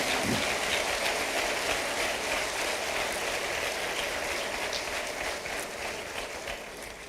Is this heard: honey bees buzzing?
no